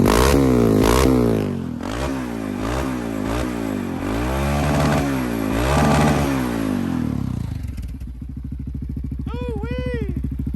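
A Can-Am DS650 quad's engine revs hard several times in rising and falling bursts, loud and close, then settles to a steady rough idle as a person speaks briefly at the end.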